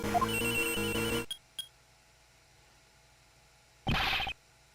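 Electronic cell phone ringtones chirp in the video game Ace Attorney Investigations 2, first a dense melodic ring, then two brief blips, silence, and a final bright burst of ringing.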